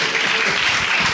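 A brief burst of audience applause at a Hungarian storytelling event, loud, close and continuous for about a second.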